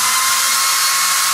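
A screw gun drives a screw through sheetrock into a wall, a short, loud, steady high-pitched motor whine up close with no talking.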